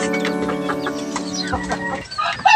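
Chickens and a rooster clucking together in a small backyard coop, a dense, steady chorus of calls that stays close and continuous, with a brief sharper squawk near the end.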